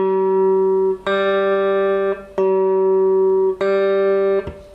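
The fourth and third guitar strings, plucked for tuning by ear, ring out in turn, each struck twice and left to decay, close and clear with no talking.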